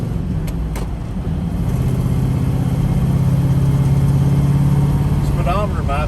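A 1968 Chevrolet Camaro is driving in second gear with a steady mid-pitched engine drone heard from inside, swelling slightly as it pulls, with a voice briefly speaking near the end.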